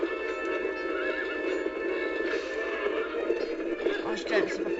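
In the Zelda Twilight Princess video game, a horse neighs and gallops with steady clip-clopping hoofbeats over a constant game soundscape, while someone talks over it in French.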